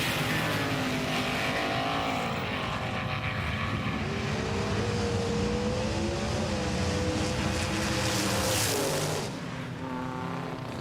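Rally-style race cars, a Mitsubishi Lancer Evolution among them, racing head to head, a sustained loud engine roar with rising and falling revs as the cars push, then easing near the end.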